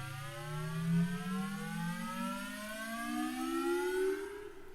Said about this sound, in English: And that is how you create a riser, or how you locate a riser